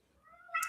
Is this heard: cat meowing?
yes